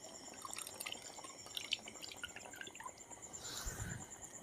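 Water from soaked tamarind is poured out by hand, giving a faint trickle and drips with a brief splash near the end, set in a quiet village kitchen.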